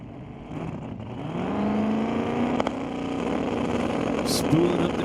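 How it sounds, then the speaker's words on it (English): Turbocharged drag racing car at Mission Raceway Park on the start line, engine droning and rising as the turbo spools and boost builds, a loud steady roar that climbs in pitch, with faint crowd and announcer ambience behind. "Spooling up the turbo, building a little boost."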